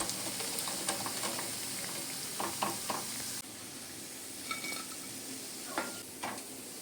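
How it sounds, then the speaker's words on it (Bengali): Potato and rice pakoras sizzle steadily in hot oil, with a dense crackling hiss broken by occasional scraping turns and light clinks of a utensil against the pan. "উল্টে পাল্টে 2 পিঠ খুব ভালো করে লালচে করে ভেজে নেব"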